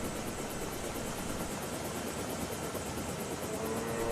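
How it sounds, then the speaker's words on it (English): A helicopter flying in the video game Planet Explorers makes a steady broadband rotor and engine roar with a faint rhythmic chop, constant and close, slightly swelling at the end, with no speech. "that's why I'm going up in the helicopter."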